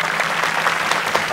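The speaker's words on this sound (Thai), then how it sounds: "ขอเสียงปรบมือด้วยนะครับให้กับคณะกรรมการของเราครับ" Audience applause for a judging committee at an innovation awards ceremony, a dense burst of many hands clapping loudly and close for a brief moment.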